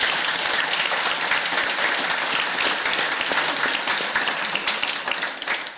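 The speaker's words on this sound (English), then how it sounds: "I hope you're applauding for yourselves too" A large audience at a Calgary mayoral debate applauds steadily, a dense wash of many hands clapping that tapers off slightly toward the end, with no speech over it.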